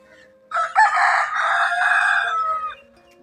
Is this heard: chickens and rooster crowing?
yes